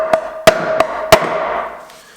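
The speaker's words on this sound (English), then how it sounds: "Come in here, use your smallest hammer you got." A small hammer tapping 5/16 T-nuts with 3/8 outer rings into wood: four sharp, close metallic taps with ringing decay, irregularly spaced over about two seconds.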